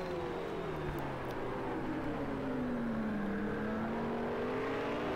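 BMW GT3 race car in Project CARS 2 at Zhuhai, engine droning steadily loud throughout with pitch sweeping down then climbing again as it accelerates, no talk.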